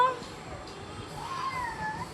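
A child imitates a cat with drawn-out meow sounds, faint and close, against a quiet room background.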